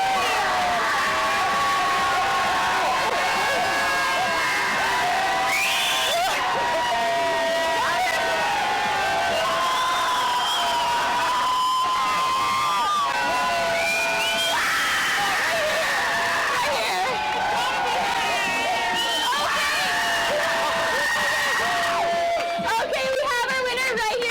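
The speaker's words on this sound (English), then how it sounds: "I want you to get on your feet and make some noise." Baseball crowd at a Brantford Red Sox game cheering, whooping and shouting in a loud, sustained roar that swells and dips, with an announcer's amplified voice and babble mixed throughout.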